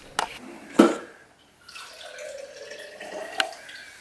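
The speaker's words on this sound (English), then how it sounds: "Fill it up about that much water." Water trickles and drips into a bottle, with a few sharp splashes near the start and a steady thin pour after, close and fairly quiet with no talking.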